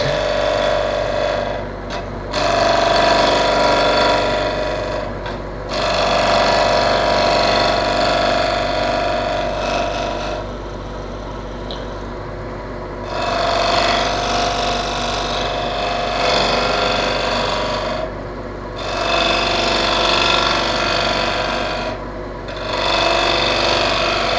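A wood lathe spins a chestnut root burl plate while a tool shear-scrapes its edge, giving a loud, steady whirring hiss in long passes broken by brief pauses.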